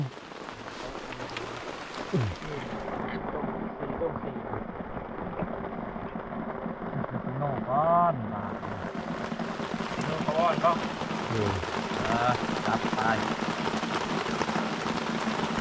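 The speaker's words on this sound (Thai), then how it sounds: "โอ้ฝนก็ตกทุกคนเลยบาดนี้เนี่ย" Rain falls steadily outdoors, a constant close patter and hiss, while people talk intermittently beneath it.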